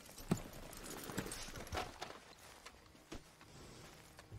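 Horse hooves clip-clopping at a walk in the Western video game Red Dead, a faint, steady rhythm of hoofbeats with light ambient noise and no talk.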